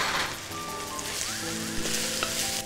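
Red chili, cumin, coriander, garam masala and turmeric sizzle hard as they hit the hot oil at the side of a pan, a steady close crackle with scattered sharper pops.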